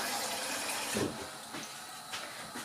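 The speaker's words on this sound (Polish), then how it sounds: "Doleję wody." Water pours into a soup pot on a gas stove, a steady splashing rush that fades into a few smaller trickles and sloshes, with no talk.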